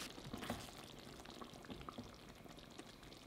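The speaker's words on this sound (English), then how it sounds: "just pour that into the curry whilst you're stirring" A cornflour and cold water slurry is poured into a simmering Thai-style Panang chicken curry while it is stirred, giving a faint, soft liquid pour with gentle bubbling and light clicks.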